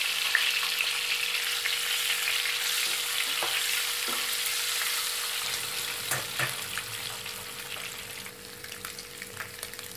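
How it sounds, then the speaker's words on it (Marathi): Eggs frying in a pan for an egg curry, a steady close sizzle throughout with occasional faint clinks and stirring scrapes. "यामध्ये ही अंडी घालते। ही आपल्याला फ्राय करून घ्यायची आहे।"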